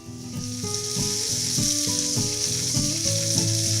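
Carrots, celery, salt and peperoncino fry in a pan, a loud, close, steady sizzle with a crackling hiss that swells slightly after the start, broken by repeated clinks and scrapes from a utensil, and no voices.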